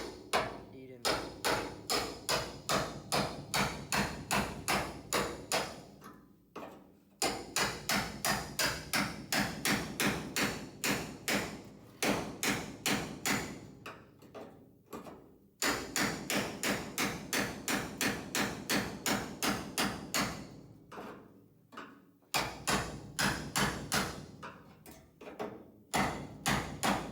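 A big hammer beats repeatedly on metal near the windshield of a 1971 Dodge Challenger R/T under repair, rapid regular strikes in long bursts separated by short pauses, loud and close, with no speech between them.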